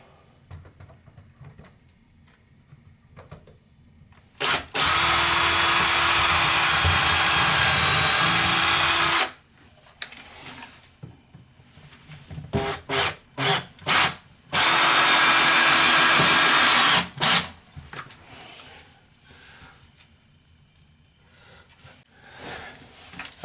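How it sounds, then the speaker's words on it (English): A power drill pre-drills holes for brass wood screws to fasten a brass toilet flange, two long steady whirring bursts of about five and three seconds separated by short clicks and handling noises, close and loud. "Now pre-drill your holes."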